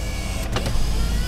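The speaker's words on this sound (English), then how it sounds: "Good-looking power window motors, roll up nice and smooth." Car power window motor running as the window rolls up, a short steady whir lasting about a second, fairly close.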